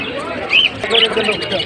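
Pigeons at a busy pigeon market in Hasnabad give short coos and calls close by, mixed with background chatter from the crowd.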